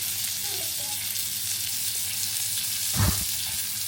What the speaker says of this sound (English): I'm hoping that I can hear that sizzling sound that you just heard when I put the steak in.